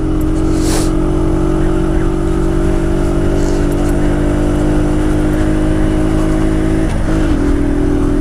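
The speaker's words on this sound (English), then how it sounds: "I am currently going 20 miles per hour up a hill, because I'm on a 50cc" A 50cc moped engine labours uphill at about 20 miles per hour, holding a loud, steady, close droning whine with constant wind rush throughout.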